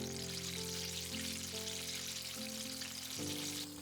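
Eggplant pieces deep frying in hot oil, giving a dense, continuous bubbling hiss with no pauses, fairly faint, while a steady tonal hum plays underneath.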